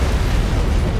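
A powerful explosion rips through a starship from a suspected antimatter charge in Halo: Combat Evolved, a dense, continuous low rumbling roar sustained at high loudness throughout without a break.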